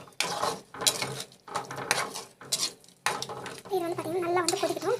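Kuzhambu curry being stirred and sautéed in a pan, a spoon scraping and clattering in bursts with short pauses between, ending in a longer sizzling stir.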